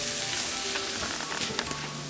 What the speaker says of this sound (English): We're going to add in our eggplant. And we're going to saute this for a couple minutes.